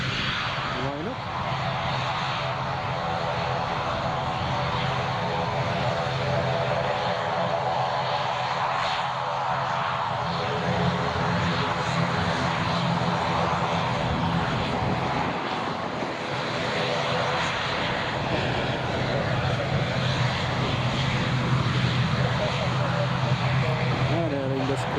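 An Aer Lingus airliner lines up on the runway at Newcastle International Airport, its engines giving a steady, loud, broadband roar that persists throughout.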